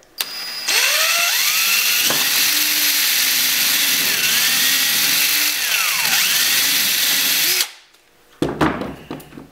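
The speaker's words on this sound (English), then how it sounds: "I'm ready to drill my holes, and what's going to make that go a lot faster is this bit" A power drill with a pre-drill countersink bit whines steadily for several seconds through PVC pipe, pitch shifting as it bores through, then stops, followed by brief clattering handling noise.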